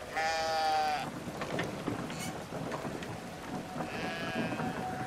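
Sheep bleat in the video game Brothers: A Tale of Two Sons, two drawn-out calls at the start and near the end over a steady rain-like wash with low rumbles.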